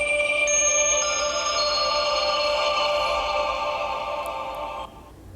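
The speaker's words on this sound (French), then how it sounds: "Voilà, donc nos deux téléphones qui démarrent un petit peu en même temps." An Elephone P7000 and an Mstar S700 smartphone boot up at nearly the same time, their overlapping startup chimes forming sustained, layered electronic tones that fade near the end.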